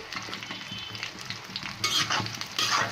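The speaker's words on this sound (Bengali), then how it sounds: "এখন পেঁয়াজটাকেও কিছুক্ষণ ভেজে নেব" Onions frying in a pan with steady sizzling and repeated stirring strokes, the crackle swelling louder in bursts near the end, no voices.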